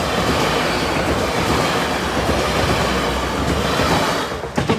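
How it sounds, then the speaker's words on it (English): A train to London King's Cross roars past close by at Boultham level crossing, loud and steady with rumbling wheels and clatter, fading slightly at the very end. "Train."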